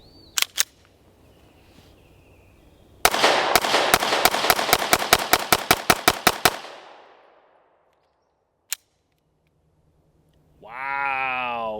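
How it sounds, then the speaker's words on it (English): Staccato C pistol fitted with six-pack port cuts fired in a fast string of about fifteen sharp, loud shots with a ringing tail, preceded by faint handling clicks and followed by a lone click and a brief voice. "These are my first shots with it, and the Staccato C was already a really soft shooting gun"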